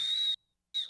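Two short whistled notes from a person trying to whistle, thin and steady in tone, separated by a brief silence, close and fairly quiet.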